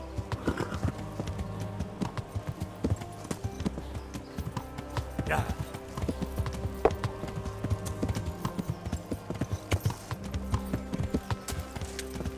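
Rapid hoofbeats of a fully loaded horse galloping in the video game Kingdom Come: Deliverance pound steadily throughout, with a whinny partway through and faint background music beneath.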